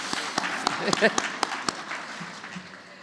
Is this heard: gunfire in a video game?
no